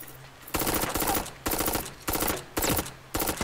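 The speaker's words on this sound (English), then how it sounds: "Someone's shooting me" Bursts of automatic gunfire in the battle royale game Super Mecha Champions on Android, four loud rapid volleys each lasting about half a second to a second, separated by short quieter gaps.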